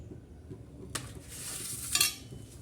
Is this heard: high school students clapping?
no